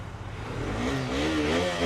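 A 200 cc sport motorcycle engine with 15,000 km on it catches and revs up, the pitch climbing steadily, close and fairly loud.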